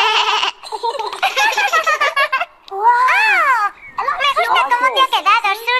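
A cartoon pig character in Peppa Pig imitates a cat, voicing playful high, swooping meow-like calls amid giggly childlike chatter, loud and close with short pauses between bursts.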